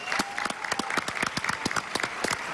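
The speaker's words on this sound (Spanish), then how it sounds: "Aplauso para Wilmer." A television studio audience claps together in a dense, even burst of applause, steady and close for a couple of seconds.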